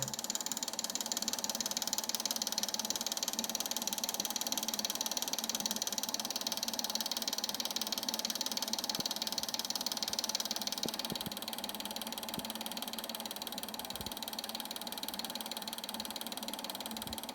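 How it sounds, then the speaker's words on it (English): A Draksler string pulse motor runs on its own, giving off a fast, steady mechanical ratcheting whir with a constant high whine that eases slightly partway through, close and fairly quiet, with no voices. "You will see that the motor is still running"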